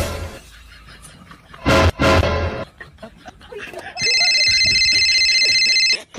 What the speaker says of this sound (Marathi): घे फोन लावलाय मी